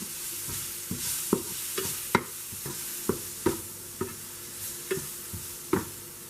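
Bitter gourd being stirred with red chili powder and salt in a pan over a soft sizzle, a spoon tapping and scraping about a dozen times at an irregular pace, close by.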